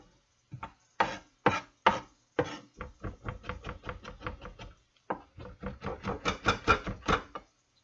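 Knife chopping garlic on a cutting board, a run of sharp, rapid wooden taps in quick bursts with a short pause midway, close and clear with no talking.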